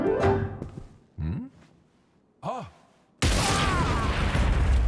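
A few sparse piano notes are followed by a sudden loud explosion with a sustained roaring blast as a bomb hidden in a piano detonates in the Sniper Elite 5 video game.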